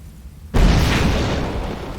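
A grenade explodes in a video game with a sudden loud boom, then a heavy roaring blast that rumbles and slowly fades over more than a second, close and alone with no speech.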